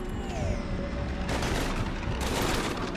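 Gunfire from the video game Mass Effect: a dense burst of shots and booms rolls on under a whining sci-fi tone, growing heavier partway through and staying loud and close to the end.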